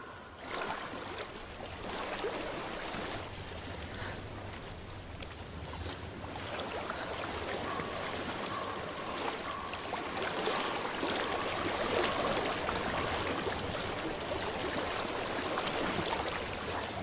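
Steady flowing stream water in the video game Hellblade: Senua's Sacrifice, a continuous close rushing wash that swells slightly louder toward the end, with no voices.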